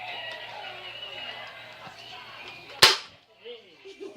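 A toy Nerf blaster fires once, a single sharp close snap standing out briefly against quiet background chatter and faint indoor noise.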